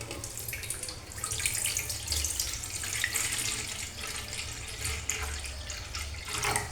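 Water runs from a kitchen tap into a cooking pot that will go on an induction cooker, a steady, loud rushing and splashing throughout with no talking.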